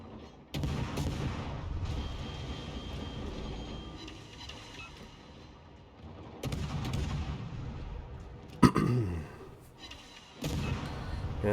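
The destroyer Blyskawica's guns fire in World of Warships on the Strait map during a ranked battle: heavy booming salvos with a rumbling tail, repeating in bursts over several seconds, with one sharp, loud crack partway through.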